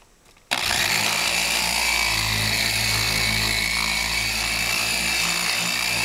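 A power buffer with a soft pad polishing Kawasaki motorcycle paint starts up abruptly after a brief quiet moment, then runs as a loud, steady motor whine with a constant pitch until the end.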